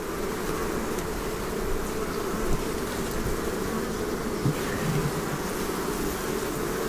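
A dense, continuous drone of many bees buzzing close by in a strong colony in a horizontal lounger hive after winter, steady and loud with no pauses.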